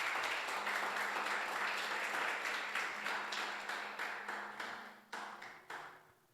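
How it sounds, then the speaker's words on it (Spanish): Church congregation applauding during a Spanish-language sermon, a broad wash of many clapping hands that holds steady, then thins into a few scattered final claps as it dies away. "¿Cuántos le dan un aplauso a esa palabra, a ese nombre"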